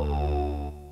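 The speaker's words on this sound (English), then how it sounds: "the simple sawtooth wave has been sent through vocal formant filters to" An E-MU Morpheus synthesizer plays a sawtooth wave through vocal formant filters, giving one sustained, loud, buzzy tone whose vowel-like resonances slide about before it fades slightly at the end.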